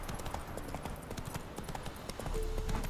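Horse hooves clip-clop at a steady trot in The Witcher 3, a quick rhythmic patter of close, moderately loud hoofbeats with no speech over them.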